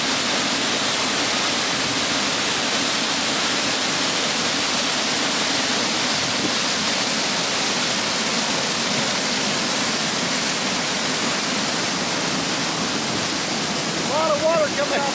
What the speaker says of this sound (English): Water coming off the hillside right now.